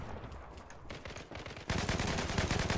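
A Tar-21 rifle fires on full auto in the Zula shooter game: scattered shots and short bursts at first, then a loud, sustained rapid burst that fills the second half.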